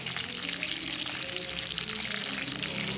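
Eggs sizzle in hot mustard oil in a pan for egg curry, a steady, fairly loud hiss with bubbling crackle running without pause throughout.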